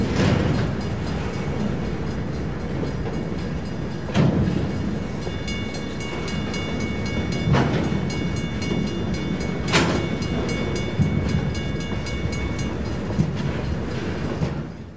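A Rock Island freight train hauling wind turbine cylinders rolls steadily past, with a continuous rumble of wagons and periodic clicks and clanks of wheels over rail joints.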